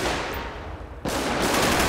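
Loud, dense automatic gunfire fills a shootout in GTA 5 with a police mod. The firing is continuous and sustained and swells louder partway through.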